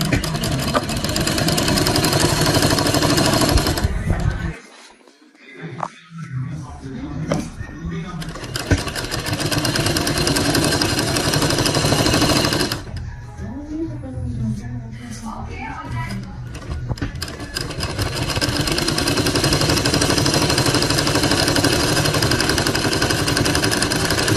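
Sewing machine stitching along the folded edge of a fabric garment, whirring loudly and steadily with one short break, while a voice speaks over it.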